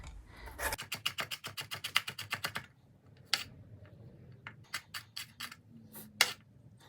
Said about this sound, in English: Now time to cut our jalapeno.